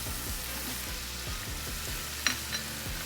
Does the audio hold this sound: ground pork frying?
yes